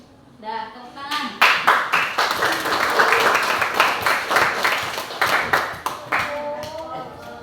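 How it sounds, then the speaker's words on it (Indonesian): Students applaud in a classroom after a math presentation, a dense burst of many hands clapping that starts after a brief moment of talk and continues steadily, fairly loud and close, with a few voices underneath. "Dah, tepuk tangan."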